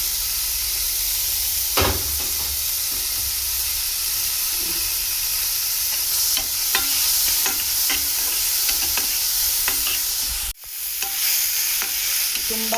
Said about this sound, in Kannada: ಕೆಂಪಗೆ ಆಗಬೇಕು, ಅಲ್ಲಿ ತನಕ ಹುರ್ಕೋಬೇಕು ಈರುಳ್ಳಿನ